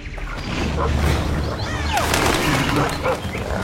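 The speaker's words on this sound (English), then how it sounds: "That's Grindley's dog" A dog barks and yelps in several short bursts at middle distance, over a dense, noisy background with a low rumble and mechanical sounds.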